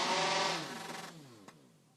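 High-performance racing chainsaw engines at a timbersports championship roar loudly with a rasping, revving whine that drops in pitch and fades over two seconds.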